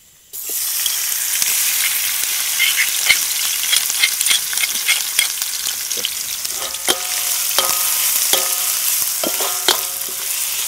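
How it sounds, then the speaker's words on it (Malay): Pounded chilli and turmeric spice paste sautéed with crisp fried anchovies in a pan sizzles loudly and evenly from the start, with sharp metallic spatula scrapes and clinks coming more often toward the end. "Ini tumis sampai bau cili, bau kunyit tu hilang dengan sedikit garing."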